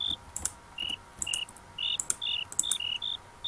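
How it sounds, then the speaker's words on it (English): Crickets chirp in a modded Minecraft survival world, short high repeated trills in a steady pulsing rhythm, fairly close and alone with faint clicks underneath. "Dude, there's crickets out here."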